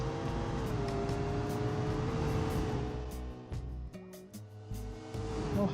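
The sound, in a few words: twin turbo V12 car accelerating, from a video game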